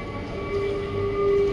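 A metro train standing at a stop gives off a steady rumbling hum with a sustained electric whine on top, close and moderately loud.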